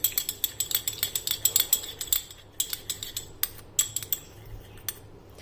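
A spoon stirs yogurt into milk in a small bowl, clinking and tapping against the side in a quick, uneven rhythm of bright metallic ticks, close up and alone before a short pause.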